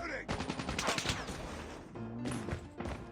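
Rapid bursts of SP-R 208 sniper rifle fire and other gunfire in Call of Duty Mobile, sharp repeated cracks in clusters at close range, with a voice talking underneath.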